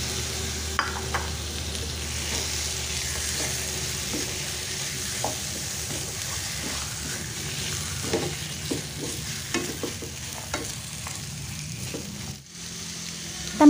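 Steady sizzling of chicken frying in a pan of spice paste, with occasional scrapes and clicks of stirring, close up and moderately loud.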